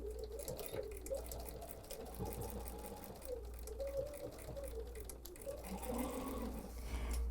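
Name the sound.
sewing machine stitching binding on a hot pad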